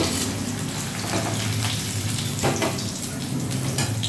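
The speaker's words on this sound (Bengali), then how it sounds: "আলুগুলো আগে ভেজে নিচ্ছি" Boiled potatoes fry in hot oil in a pan with a steady, close sizzle and occasional stirring scrapes.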